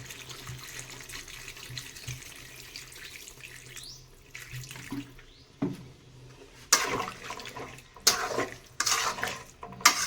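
Vegetable curry being stirred in a pan after water is added, with soft scraping and sloshing that build into louder, clustered bursts in the second half, and no voices.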